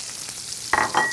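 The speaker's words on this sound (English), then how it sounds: "Now we're going to throw in our mushroom and onion." Mushrooms and onions tossed into a hot pan with bacon, a steady frying hiss that bursts into louder, harsher sizzling as the food lands, close and without talk.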